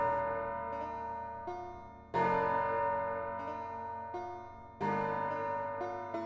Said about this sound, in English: The bell of justice is ringing.